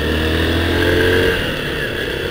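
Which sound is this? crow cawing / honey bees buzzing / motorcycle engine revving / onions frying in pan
motorcycle engine revving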